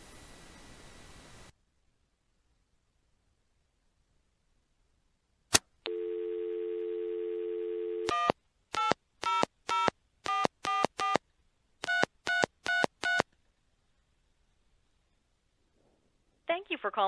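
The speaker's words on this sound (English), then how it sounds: "So I just dialed 800-444-3333, and it did match up with the number of the payphone." Northern Telecom Centurion pay phone handset: a steady dial tone, then a rapid run of DTMF touch-tone beeps dialing an MCI 800 number in short bursts, followed by a brief start of the line connecting, clear and close.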